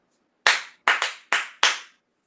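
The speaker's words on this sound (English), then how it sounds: "They heard the clap." A storyteller claps her hands four times in quick succession, each clap sharp, close and loud, with a short pause between them and no talk.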